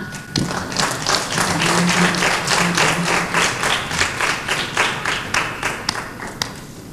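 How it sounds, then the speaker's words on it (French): An audience at a televised spelling competition gives a guest of honour a warm welcome with sustained applause that gradually thins into rhythmic, individually distinct claps near the end. "Nous allons maintenant accueillir sous vos acclamations Monsieur Baudelin."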